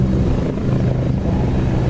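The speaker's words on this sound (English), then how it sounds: "I need you to listen carefully to the sound of these fabulous helicopters." Helicopters flying at an air show, heard as a loud, close, continuous rotor and engine roar with dense low-frequency throbbing throughout the short stretch, no voices.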